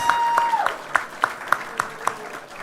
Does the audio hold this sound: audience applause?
yes